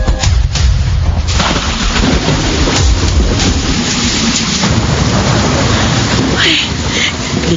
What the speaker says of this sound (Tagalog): Tuloy, inabot ako ng ulan.